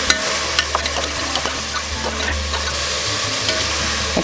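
Chopped cabbage and carrot sizzle and hiss in a hot pan, with repeated scraping and stirring knocks from a spatula over a steady frying crackle, close and fairly quiet.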